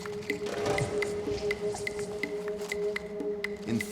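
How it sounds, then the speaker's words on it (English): Wet squishing and dripping sounds from baby reptiles sucking out their mother's liquefied insides, with soft slurps and regular drips at close range. "The mother's insides dissolve, and the babies suck out the liquid meal."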